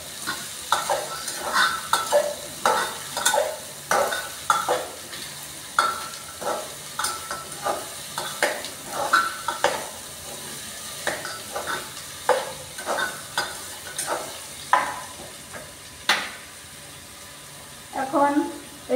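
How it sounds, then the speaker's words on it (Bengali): Onion and garlic sizzling in a pan for a potato and soybean curry, stirred with repeated scraping strokes in an irregular rhythm over a steady close-up frying hiss, with no talk. "পেঁয়াজ রসুন সব আমি একসাথে করে দিয়ে দিচ্ছি। দিয়ে দেওয়ার পর আবার একটু নাড়াচাড়া করব।"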